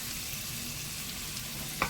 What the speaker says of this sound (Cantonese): 用鑊鏟將佢爆香。